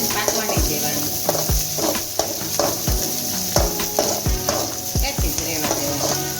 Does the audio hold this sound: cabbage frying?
yes